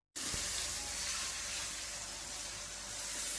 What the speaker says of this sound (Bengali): পেঁয়াজ আর টমেটো একটু কষিয়ে নিচ্ছি,